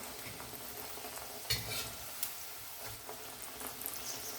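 An egg-based snack fries in hot oil, giving a soft, steady close sizzle with occasional stirring clinks and small pops, fairly quiet throughout and with no voices.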